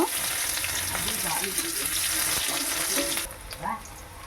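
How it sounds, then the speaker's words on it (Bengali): Onion pieces hit hot oil already seasoned with cumin seeds in a home kitchen, giving a steady loud sizzle with a few stirring knocks, then easing slightly toward the end. "প্রথমে হচ্ছে তেলটা গরম হয়ে গেছে, জিরাটা দিয়ে দিয়েছি। এবার এর মধ্যে কয়েকটা পেঁয়াজের টুকরো দিয়ে দেব।"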